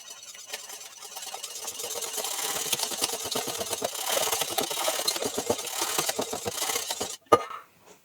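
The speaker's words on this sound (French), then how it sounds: "Et on vient fouetter le tout." A steady, close whirring of clafoutis batter being whisked with cinnamon, continuous and fairly even for several seconds, then a sharp knock as it stops.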